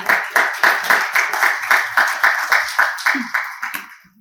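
Audience applause welcomes a social worker presenter at a disability employment case-sharing event, a steady run of rhythmic group claps lasting about four seconds before fading out.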